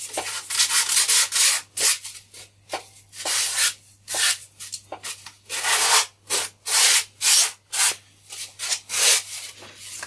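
The trailing edge of an F3K model glider wing core is sanded with coarse sandpaper in rapid, rhythmic back-and-forth strokes, loud and close, with a few brief pauses between bursts and no talking.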